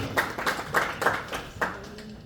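Audience at a concert claps for an instrument player who accompanies the singers, a few loose, uneven claps spaced out over a couple of seconds, fairly close.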